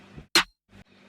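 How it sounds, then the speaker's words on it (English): A classic trap hip-hop snare sample hits once, loud and sharp with a bright noisy crack, set between softer low sounds and quiet gaps. "we have the classic trap hip-hop snare"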